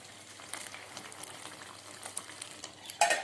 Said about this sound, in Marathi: इथे मी भाजी आणलेली आहे बघा गरम करते आहे